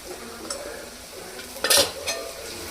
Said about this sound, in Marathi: आता हे असं आपण परतवून घेऊ चांगलं